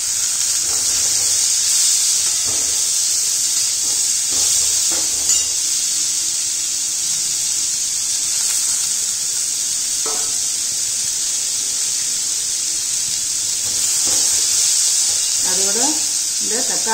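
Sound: pumpkin pieces sautéing and sizzling in a pan

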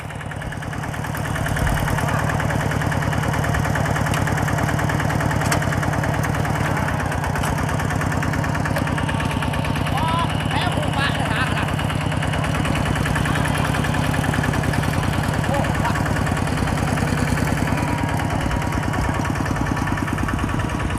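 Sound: farm tractor engine running

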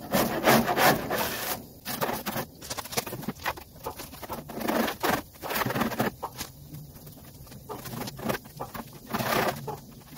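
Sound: paint scraper scraping old hood pad off a 1985 Mercedes 300D

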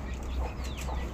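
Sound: Bangkok roosters, chickens

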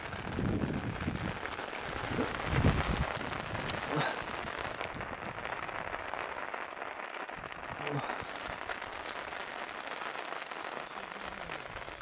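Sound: rain falling

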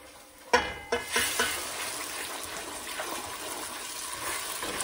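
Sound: frying blended pepper, tomato, onion mixture for jollof rice

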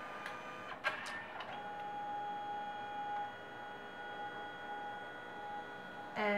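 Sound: Canon Selphy photo printer printing

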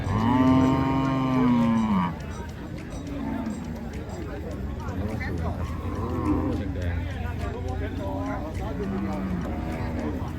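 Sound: cattle mooing

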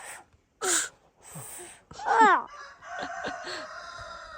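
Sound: rooster crowing

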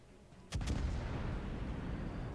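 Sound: warship artillery salvo firing in a naval video game

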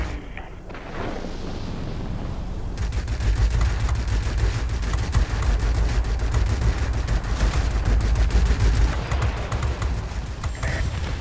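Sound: rear gunner firing on the SE 100 plane in video game World of Warplanes

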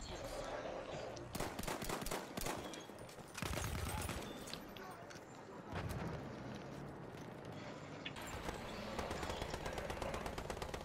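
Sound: gunfire in video game Battlefield 1

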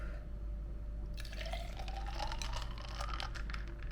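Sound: espresso poured over ice

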